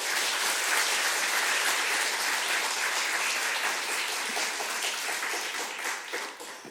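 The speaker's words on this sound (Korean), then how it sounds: "우리 뜨거운 마음으로 환영하는 박수 하겠습니다." A church congregation at a Sunday worship service claps warmly to welcome a visiting professor before his sermon, a sustained, even wash of many hands that tapers slightly near the end.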